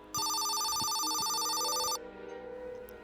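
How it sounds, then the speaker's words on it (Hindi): A keypad mobile phone rings loudly with a bright electronic warbling tone that lasts about two seconds and then cuts off, leaving a quiet low hum. "तभी रवि का कीपैड वाला फोन रिंग होता है"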